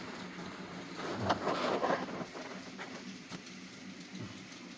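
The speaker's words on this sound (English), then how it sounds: "With a few trains running." Model railway trains run on a home layout: a faint, steady rolling rumble with light clicks of wheels over rail joints, heard alone without talk.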